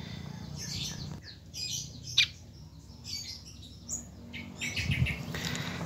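Fantail flycatcher (sikatan kipas) kept as a pet bird, with scattered high chirps and brief wing flutters in a small space, fairly close, against a low background rumble and without talk.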